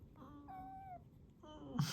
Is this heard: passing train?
no